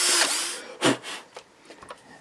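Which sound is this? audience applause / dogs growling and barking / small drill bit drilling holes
small drill bit drilling holes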